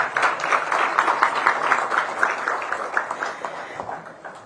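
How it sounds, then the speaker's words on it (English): An audience at a car safety assessment programme launch claps for the Honorable Minister, a moderately loud, even patter of many hands continuing steadily before slowly tapering toward the end. "may I request for another applause for the Honorable Minister, sir."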